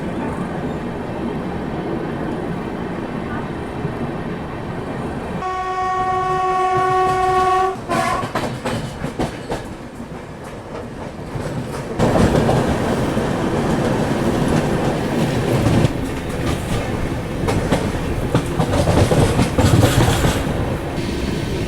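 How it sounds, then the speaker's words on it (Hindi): Bhopal Shatabdi Express train rolling out of Mathura, with steady loud rumble and clatter of the coaches on the rails, a sustained multi-tone horn sounding for a few seconds early on, then continued clickety-clack as it picks up speed. "बिल्कुल 1 मिनट के हॉल्ट के साथ ही हमारी ट्रेन ने मथुरा से डिपार्चर ले लिया है"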